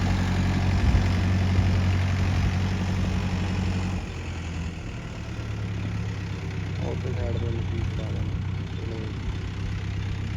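A tractor engine idles with a steady low rumble throughout, and voices talk faintly over it in the second half.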